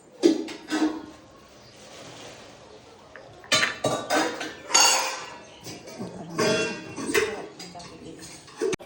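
Utensils and dishes clatter and clink as grandma brings them in, irregular metallic knocks at close range, with people talking over them.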